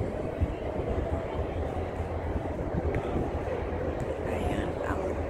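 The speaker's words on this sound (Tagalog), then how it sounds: "Ayan ang train na galing sa Tongchong papuntang city." A train crosses a bridge on a Hong Kong waterfront promenade at Tsing Yi, a steady broadband rumble and rolling rattle lasting throughout, with people talking over it.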